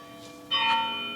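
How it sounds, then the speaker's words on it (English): A church bell strikes once, its ringing tone sounding clearly and then slowly decaying, with the hum of an earlier ring still lingering. "Church bells are ringing."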